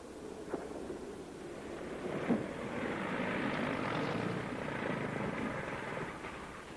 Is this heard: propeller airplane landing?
yes